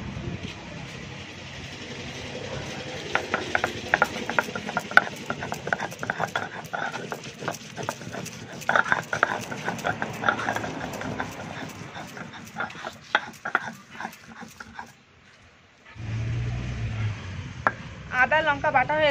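Ginger and green chilies are ground into a paste by hand: a rapid, rhythmic run of scraping and knocking strokes that goes on for about twelve seconds, then stops abruptly. A person speaks over and after the grinding.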